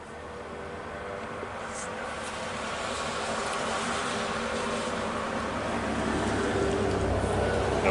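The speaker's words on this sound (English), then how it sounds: "Let the truck come around." A truck on a rural road approaching and passing, a broad low rumble of tires and engine that swells gradually from moderate to louder over several seconds, with no talking.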